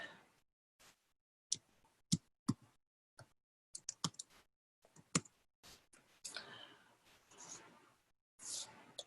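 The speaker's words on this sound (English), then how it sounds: "I'm gonna go ahead and type this in the chat as well" Typing on a computer keyboard into a chat, irregular quiet clusters of key clicks separated by pauses, close and soft, with brief faint voice sounds.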